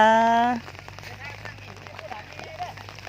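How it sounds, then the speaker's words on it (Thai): Rain falls steadily over a rice paddy during transplanting, a soft, dense patter with scattered drops, close by. A brief tonal sound fades out in the opening half second. "ฝนตกเลยค่ะ"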